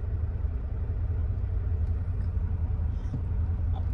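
A Western Star W900 truck rumbles past on a US highway amid an oversize-load convoy, a steady, loud low engine drone throughout with no talking.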